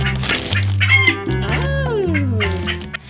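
A backyard hen clucking and squawking up close, a quick run of sharp clucks and rising-falling calls, loud and clear with no talk over it.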